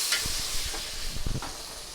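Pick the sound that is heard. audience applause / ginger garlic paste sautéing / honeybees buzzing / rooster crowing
ginger garlic paste sautéing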